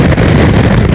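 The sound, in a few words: crosswind noise while riding a motorcycle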